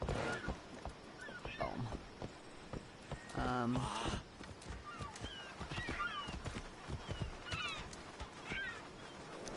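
Horse hooves clip-clop faintly in the Assassin's Creed Discovery Tour game, soft irregular steps mixed with chirping birds and occasional game sounds, while someone talks over them.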